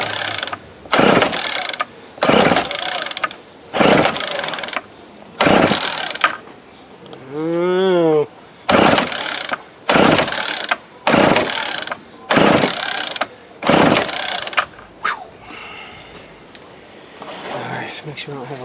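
A Snapper S31SST string trimmer with carburetor trouble is cranked on full choke, giving about a dozen rhythmic recoil pulls, each a short rasping burst, without the engine catching; a brief whistling tone sounds midway.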